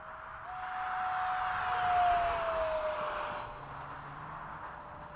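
Freewing 70mm F-35 RC model jet flying in fog at a flying field, its ducted-fan whine rising as it passes, peaking and then fading into the distance, steady and moderately loud.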